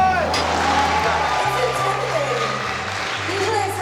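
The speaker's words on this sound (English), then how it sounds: "Okay, applause. Give me some applause." Live concert audience applauding and cheering, a steady dense wash of clapping with scattered whoops, sustained and fairly loud throughout, with musical tones running underneath.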